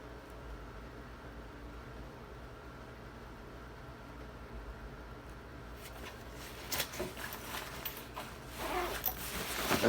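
A small zip pocket on the bottom of the top pouch of a Cold Cold World Ozone backpack unzips in the second half, rasping in short bursts that swell louder toward the end over a steady low background hiss.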